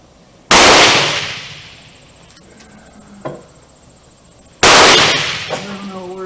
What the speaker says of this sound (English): I just want to see how fast these bullets are going to shoot.